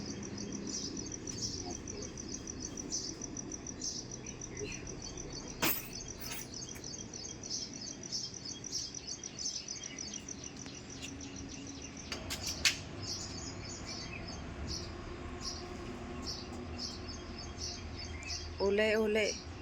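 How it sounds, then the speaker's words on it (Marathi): Sparrows chirp at 6:30 on a bright morning after rain, giving a steady high twittering that stays moderate in level throughout, with a few louder clicks and bursts and some quiet talk. "चिमण्यांचा चिवचिवाट"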